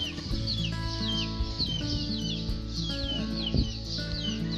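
Native chickens on a backyard farm cluck and chirp steadily and close by, several birds overlapping in a busy, continuous chorus with no talking.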